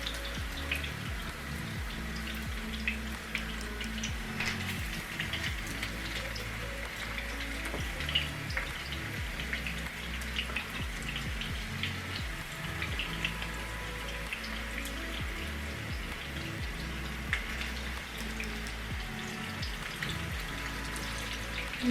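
Meatballs frying in a pan, a steady low sizzle with faint crackles and pops that runs continuously and quietly throughout.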